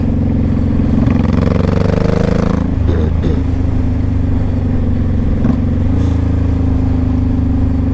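A 2005 Honda Shadow Sabre 1100 V4 motorcycle runs close and loud, its deep steady engine drone rising briefly in a rev near the start, then settling back. A few clattering knocks fall in the middle.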